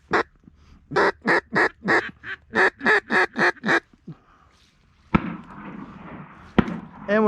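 A hunter's duck call gives a rapid series of about ten loud, close quacks during a pintail duck hunt, followed by two sharp shotgun blasts over rustling outdoor noise.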